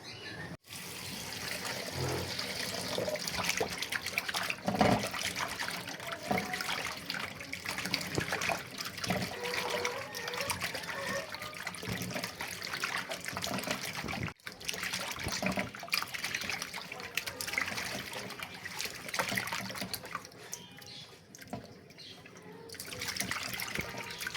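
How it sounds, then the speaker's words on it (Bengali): Tap water runs steadily while fish and cut cabbage are washed in a sink, a continuous trickling splash with small clatters, fairly close, with no talk. "তো মাছগুলো ধুবো আর এখানে পাতাকপি কেটে রাখা হয়েছে পাতাকপিগুলো ধুবো"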